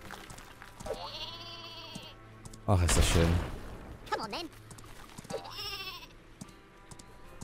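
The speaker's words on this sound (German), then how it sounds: "Ja, das Superschaf!" Super Sheep bleating in the Worms W.M.D video game, wavering cartoonish bleats rising in several bursts amid game music and effects, with a loud blast in the middle and someone talking over it.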